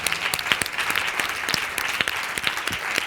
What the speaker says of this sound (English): round of applause for Leanna